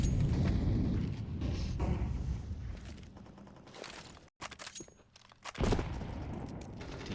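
Gunfire in a Counter-Strike match on the Overpass map, with dense overlapping rifle shots and game noise, a brief drop to near silence midway, then more bursts.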